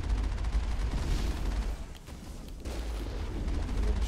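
A cannon shot fired at a Colossus in the video game Mass Effect lands as a loud, booming blast within a dense, continuous roar of combat noise, with no voices.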